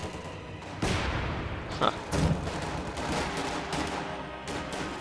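Mortar and gunfire in the Company of Heroes 2 strategy game, several sharp explosive cracks and thuds over a rattling battle din, with a brief murmur from a voice.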